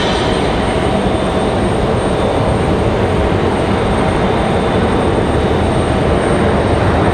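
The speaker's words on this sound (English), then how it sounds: "As our American from DFW touches down here." An American Airlines jet from DFW touches down on a slightly wet runway at Raleigh-Durham International, producing a loud, steady roar of engine and rushing wind that holds unbroken throughout.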